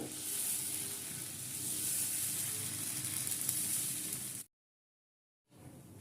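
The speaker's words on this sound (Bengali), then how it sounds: "এবার গ্যাসের ফ্লেমটা মিডিয়াম টু হাই ফ্লেমে রেখে ধোসাটা ভালো করে ভেজে নেব" Moong dal dosa frying in oil on a hot pan over medium-high flame gives a steady, close sizzle for several seconds, then breaks off into brief silence before the hiss returns.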